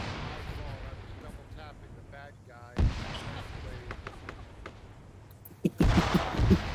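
Gunfire in the video game Operation Failsafe, a few sharp shots scattered through the stretch with a heavier burst near the end, heard under ongoing voice chat among players.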